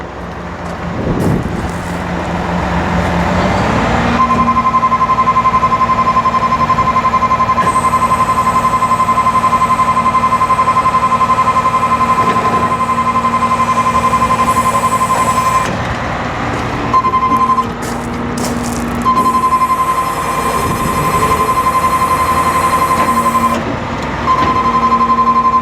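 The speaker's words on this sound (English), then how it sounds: "At this time, I'll drop your outriggers." A 2008 Hino 338 bucket truck with an Altec TA50MH unit runs steadily while its outriggers lower, and a sustained tonal alarm sounds over the engine for most of the stretch, breaking off briefly toward the end.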